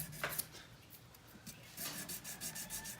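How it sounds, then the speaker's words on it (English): Soft, uneven rubbing strokes of 800 grit sandpaper over the frets of an Ibanez GiO guitar, close and quiet, growing into a steadier rhythmic scrubbing in the second half. "It's 800 grit, and I'll just sand over them."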